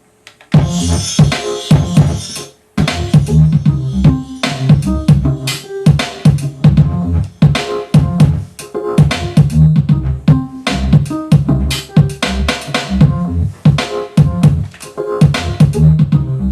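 A hip-hop style beat programmed on a Yamaha RS7000 groovebox using its internal sounds, with steady looping drums and bass playing loud and continuous after a brief pause near the start, no voices.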